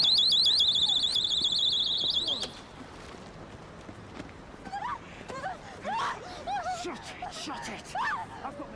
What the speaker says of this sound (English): It's me rape alarm!